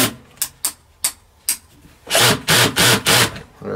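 Several short sharp clicks and scrapes come first, then a few longer grinding bursts as a wire terminal is tightened down on a 40A MPPT solar charge controller, close up with no talking.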